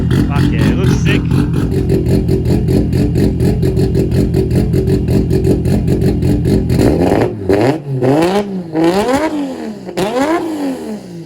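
Forged RB25 with individual throttle bodies and a 4-inch exhaust, a loud close rough idle followed by sharp repeated throttle blips that rise and fall.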